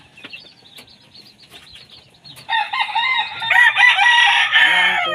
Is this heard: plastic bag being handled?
no